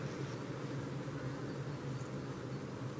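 Bees buzzing steadily beside two mobile phones placed near them, a dense, continuous drone with no pauses, fairly close and constant throughout.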